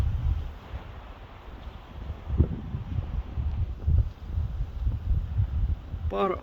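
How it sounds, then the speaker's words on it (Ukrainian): Steady low wind rumble buffets the microphone throughout, with gusting swells and a voice murmuring faintly underneath. "вітер такий, не знаю, буде вам чути, ні."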